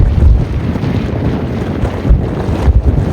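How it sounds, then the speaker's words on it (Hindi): Strong wind blows across a scenic hilltop, a continuous loud rushing roar buffeting the microphone in gusts, with no voices. "और हवा की आवाज़ सुनो"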